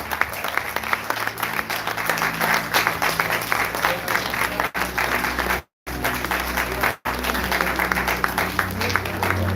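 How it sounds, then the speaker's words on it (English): A large crowd at a film festival applauds loudly and steadily for several seconds, with the clapping cutting off briefly twice before resuming. "Put your hands together for me, please."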